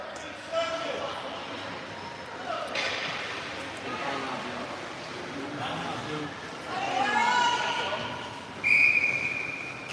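A referee's whistle shrills near the end of play at an under-12 girls' ice hockey game in an arena, heard over steady crowd and rink noise with a commentator talking throughout.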